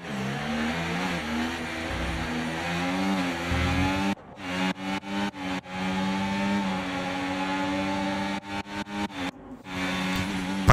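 Formula 1 racing car engines in a racing video game with a chromed Red Bull car, a steady muffled high-pitched whine broken by rapid gear-shift cuts and revving bursts.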